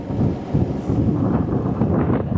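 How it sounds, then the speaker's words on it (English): Wind gusts outdoors on a farm, buffeting the microphone as a loud, continuous roar with uneven surges throughout. "the wind's blowing a little bit now"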